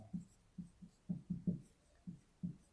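Pen strokes on paper come through faintly and close by: eight or so short, soft scratching bursts spaced irregularly, with quiet pauses between them.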